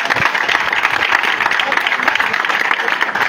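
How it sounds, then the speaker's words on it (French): A political rally crowd claps loudly and continuously for several seconds, a dense, even wash of applause with a voice faintly underneath. "Vous applaudissez pour vous-même, s'il vous plaît."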